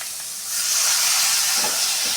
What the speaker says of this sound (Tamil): இஞ்சி பூண்டும் வெங்காயமும் நல்லா ஃப்ரை ஆகிட்டு வருது